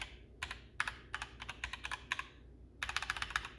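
Mechanical keys clack on a DeepCool KG722 gaming keyboard, bursts of crisp, close clicks in irregular clusters with short pauses, ending in a fast flurry of presses, with no voice over them.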